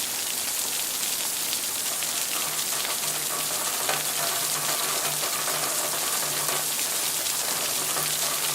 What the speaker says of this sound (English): That rain seems to be getting heavier and heavier, doesn't it?